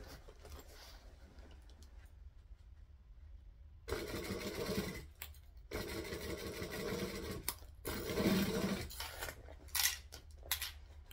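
A sewing machine stitches a bag with piping, starting quietly and then running in several loud, rapid bursts separated by short pauses, close by.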